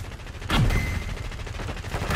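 Gunfire from Call of Duty Black Ops 6 with an SMG, a dense burst of rapid shots that rises suddenly and carries on as steady loud firing for about two seconds, with no talking.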